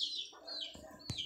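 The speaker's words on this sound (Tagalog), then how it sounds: "May manok." A chicken clucks and chirps nearby, a few short squawky calls in quick succession with quiet gaps between.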